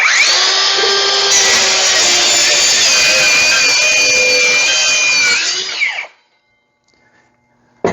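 A DeWalt 20V circular saw running on a 60V FlexVolt battery cuts through wood, a loud, steady high-pitched whine for about six seconds, then winds down abruptly to near silence.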